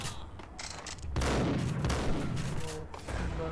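Dense bursts of gunfire from the Max Payne video game, a run of rapid shots swelling into a loud, sustained volley midway, close and harsh with a faint voice briefly underneath.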